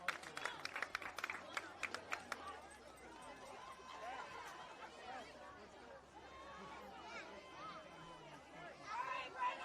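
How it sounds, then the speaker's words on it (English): Spectators at a junior varsity high school football game clap after an injured player gets to his feet, with a brief burst of scattered clapping at the start that fades into crowd chatter. "And he'll get a nice round of applause."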